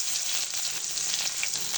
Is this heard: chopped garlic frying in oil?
yes